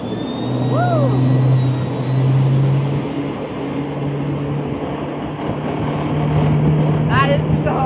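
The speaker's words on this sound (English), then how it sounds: "Time to put this boat through its paces." An Arc Sport electric wakeboat speeds across the water with a steady motor hum, a thin high whine and rushing wind and spray, while a voice whoops loudly.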